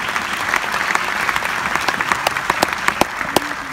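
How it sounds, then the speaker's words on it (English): Loud, sustained audience applause filling a theater during a film cast introduction, dense clapping from a large crowd with no break throughout. "go ahead and give that an applause."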